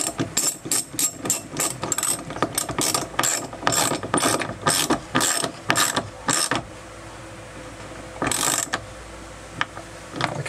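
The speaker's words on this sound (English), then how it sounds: "from underneath we'll tighten the nuts in place, holding the bolt down from the top" Nuts are tightened by hand with a ratchet wrench under a genoa track on a boat deck. Close, fast ratcheting clicks come in repeated bursts, followed by a pause and a final short burst. No speech.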